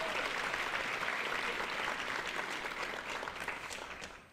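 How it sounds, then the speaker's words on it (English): Audience applause fills a school board meeting room, a steady broadband clatter of many hands that holds evenly for about four seconds before easing off at the end. "How about another round of applause"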